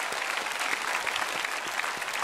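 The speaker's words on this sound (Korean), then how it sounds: "우리 새가족 박수로 환영합시다" Church congregation applauding to welcome new members during a Korean worship service, a steady, dense wash of clapping from many hands that holds at an even level throughout.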